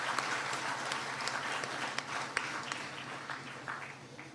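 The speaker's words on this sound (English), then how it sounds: "let us give him a hand" A debate audience applauds steadily for about four seconds, a dense, even patter of many hands clapping with a few sharper claps standing out near the end.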